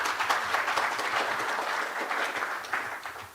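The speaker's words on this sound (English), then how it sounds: "I think we should all give a round of applause to all the Commission's colleagues." A meeting audience gives a round of applause for commission colleagues, steady moderate clapping from a group in a hall, fairly faint and even from start to finish.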